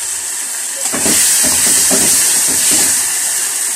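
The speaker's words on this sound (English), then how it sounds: "My tomatoes are cooking." Tomatoes simmering in a pot, a steady loud hiss of steam with a few soft bubbling pops.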